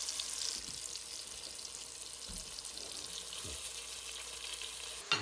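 Sliced button mushrooms frying in a pan with bacon in olive oil and butter, a steady close sizzle with occasional soft stirring clicks and a sharper knock near the end.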